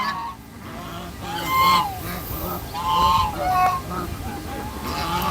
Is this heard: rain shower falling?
no